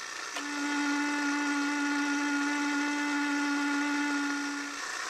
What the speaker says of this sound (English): And a dentist drill.